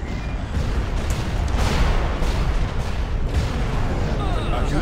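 Rapid bursts of flak cannon fire boom through a Star Wars space battle game, dense and loud with layered explosions rolling over a few seconds.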